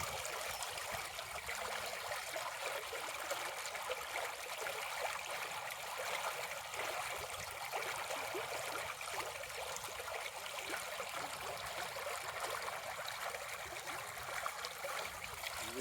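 Steady rushing water of a stream, a continuous broadband wash with trickling detail filling the whole stretch at an even level, no voices.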